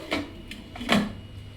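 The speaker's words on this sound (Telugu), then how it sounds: "ఇప్పుడు మూత పెట్టేస్తాం." A lid is set down on a cooking pot of brinjal curry with two short clattering knocks of metal, the second one louder, then quiet.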